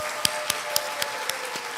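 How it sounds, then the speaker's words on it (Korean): A small church gathering applauds to welcome visiting district members, a light patter of clapping with a few sharper claps standing out, brief and moderately close. "우리 박수로 환영 한번 하도록 하겠습니다"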